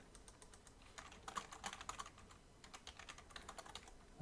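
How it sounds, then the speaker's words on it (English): Rapid typing on a computer keyboard, close and quiet, with irregular bursts of keystrokes separated by brief pauses. "my typing is not getting better"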